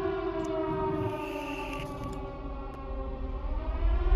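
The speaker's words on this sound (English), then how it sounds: "Siren Head shows up in Silent Hill." In the VRChat game, the Siren Head creature lets out a long droning siren wail, a loud sustained layered tone that holds steady and swells toward the end, with no talk over it.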